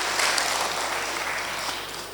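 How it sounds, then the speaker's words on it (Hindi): Audience applause at an Urdu mushaira poetry gathering in Muscat, Oman: a brief, steady wash of many hands clapping, moderately loud and gradually fading. "मैं चाहता हूँ कि इनके लिए भी एक बार ज़ोरदार तालियां बजाएं"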